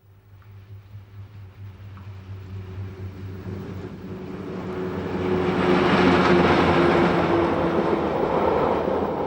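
A Rhaetian Railway locomotive 701 hauling a train on the Albula line in Switzerland, a low rumble that swells from a faint approach to a loud, broad roar near the end, with a steady low hum underneath.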